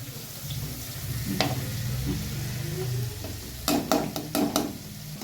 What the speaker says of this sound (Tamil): வெங்காயம் பாருங்கள் நல்லா வதங்கிடுச்சு.